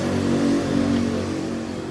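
Engine of a 2014 Toyota Avanza Veloz 1.5 automatic on a test drive, a steady low cabin hum with a slight rise in revs, continuous and moderately loud with no voices.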